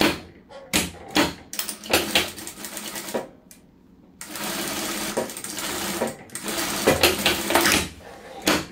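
Sewing machine stitching fabric for a double-sided placemat made from scraps, running in repeated bursts of rapid stitching separated by short pauses, close and fairly loud.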